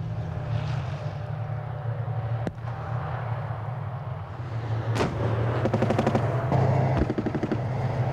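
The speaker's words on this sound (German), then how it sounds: "Originalaufnahmen von einer Übung im scharfen Schuss." Distant gunfire and sharp bangs from a live-fire military exercise in the Königsbrücker Heide crack over a constant low T-62 tank engine rumble, with scattered single shots and a rapid burst of automatic fire.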